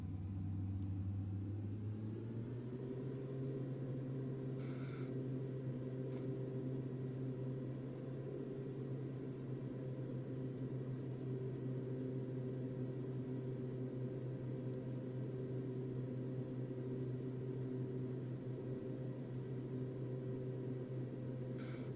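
Twin turboprop engines of a Beechcraft B1900D in X-Plane 11 spool up on the takeoff roll, a steady humming drone that climbs in the first few seconds and then holds constant and fairly loud, with no talking.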